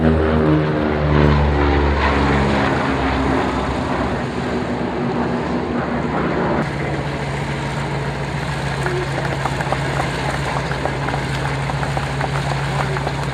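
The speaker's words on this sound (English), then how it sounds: "right now, one of the big favourites, the P-38 Lightning" A P-38 Lightning propeller aircraft roars past close by, its engine drone loud and rising then shifting pitch as it flies overhead and away.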